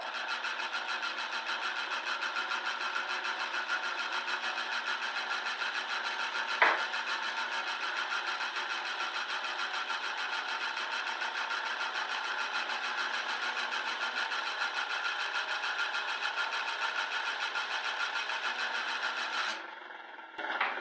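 A lathe spins a wooden workpiece at 360 RPM, giving a steady, faint mechanical hum and rubbing whir with a single brief tick partway through, then slowing near the end.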